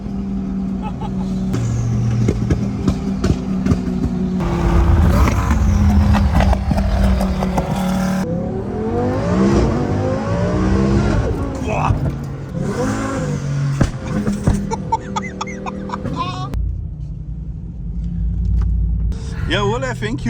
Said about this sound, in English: This thing is probably the quickest car I've ever seen in my entire life.